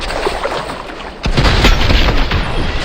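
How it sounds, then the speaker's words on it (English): Gunfire in the Fortnite video game, loud and close, with a dense burst of shots and impacts cutting in over ongoing game noise, busy in-game sound effects. "He shoots me once here. He cracks my shield. But then I shoot him again."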